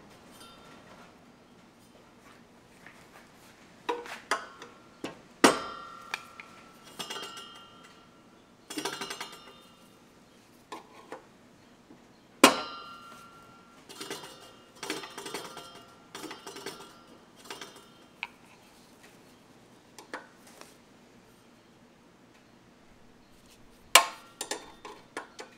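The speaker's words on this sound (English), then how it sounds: "A couple of light taps here should loosen her up." Light metal taps on a McLane 10-blade manual reel greens mower, sharp clinks scattered irregularly across the clip with quieter rattles between, close and alone with no talking.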